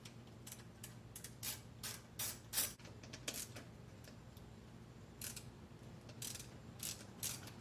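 A ratchet wrench clicks in quick bursts as it backs out several 8mm bolts on a Briggs & Stratton 6.75 HP engine of a Craftsman 22-inch mower in a garage, ticking close and fairly quiet over a low steady hum.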